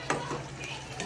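Vegetable curry stirred in a pan as it simmers and bubbles, a soft sizzling with a few scraping stir strokes near the start and end, close by and fairly quiet.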